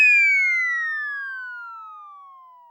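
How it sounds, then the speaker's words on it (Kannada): A loud, steady tonal ambulance siren wails alone, its pitch sliding gradually downward as it fades over a few seconds. "ಆಂಬ್ಯುಲೆನ್ಸ್ ಬಂತು ಅನ್ಸುತ್ತೆ"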